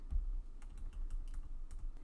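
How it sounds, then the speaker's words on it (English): Arrow keys on a computer keyboard are tapped in quick succession, producing soft, close clicks in an uneven rhythm while designing rhinestone templates. "an easy way to move it back is just hit the arrow key on your keyboard"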